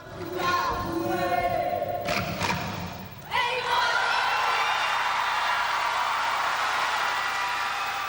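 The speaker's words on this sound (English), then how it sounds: "So listen for the roar of the crowd" A large festival crowd at the Merrie Monarch Festival in Hilo roars steadily and loudly, with a few thumps early on, then swells into a sustained, dense cheer that fills the whole stretch.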